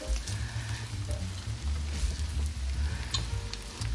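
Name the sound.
stirring chicken fried rice sizzling in hot pan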